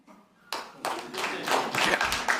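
Hands clap in a quick run of sharp, close claps, starting sparse and then growing denser and louder, with no talking.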